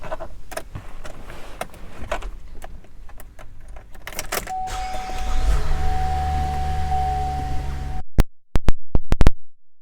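An electric motor hums steadily for a few seconds as the power moonroof of a 2015 Chevrolet Traverse opens, framed by clicks and handling noises inside the cabin and ending with a few sharp clunks.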